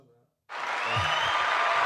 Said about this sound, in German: Heute viel Applaus.